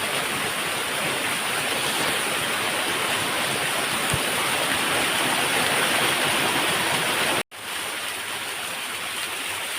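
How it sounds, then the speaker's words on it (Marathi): Small forest waterfalls rush during monsoon rain, a loud, dense, continuous roar of falling water heard close by, broken only by a momentary dropout near the end. "तुम्ही बघू शकता या साईडला धबधबे आहेत छोटे छोटे आहेत"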